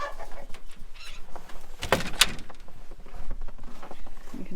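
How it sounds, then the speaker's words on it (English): Chickens in a farm coop with an attached run cluck and rustle at moderate distance, with one brief louder squawk midway amid low background noise. "Here's some more chickens."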